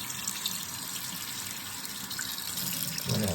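Lukewarm water running steadily from a sink tap, a soft continuous hissing stream close by, with a slight splash change at the end as something is held under it.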